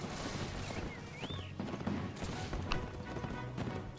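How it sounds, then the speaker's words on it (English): Grenadiers fire musket volleys in Between Empires, a dense crackling fusillade of distant gunshots mixed with clattering hooves and battlefield clamor, faint and continuous. "grenadiers are firing good"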